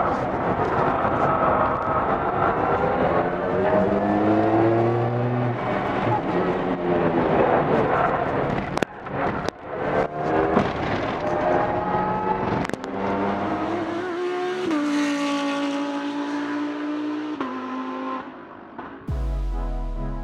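An electric Lancia Delta EVO-e with a manual gearbox is driven hard around a circuit; a loud motor whine repeatedly climbs and falls with each gear change, broken by sharp mechanical clunks and bumps, with no talking.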